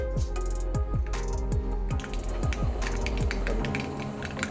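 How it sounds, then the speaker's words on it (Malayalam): Mustard seeds crackle and pop in hot oil in a wok-style pan, rapid sharp ticks in an irregular stream, close and fairly loud. "കടുക് പൊട്ടി"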